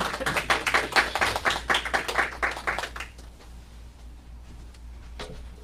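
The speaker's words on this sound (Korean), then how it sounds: "우리 환영의 박수, 감사의 박수를 올려드릴까요?" A church congregation at a 22nd anniversary thanksgiving service claps in welcome and thanks for a pastor. Quick, fairly even claps pour out for about three seconds, then fade into a quiet room with a single faint tap near the end.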